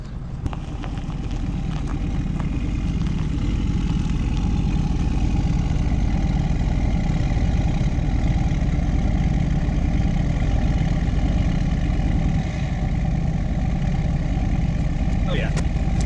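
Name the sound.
new Ford truck engine idling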